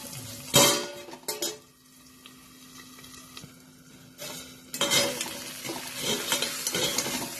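A mixed vegetable tikki mixture is stirred and sizzles in a pan on low heat, with close scraping and clinking of a utensil against the pan that come in bursts around a quieter stretch of soft frying.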